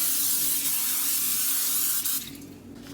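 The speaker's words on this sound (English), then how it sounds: "I'm just going to give this a quick spray." A steady hissing spray of cooking oil onto a pan runs nearly continuously for about two seconds, close by, then tapers off into quieter rustling.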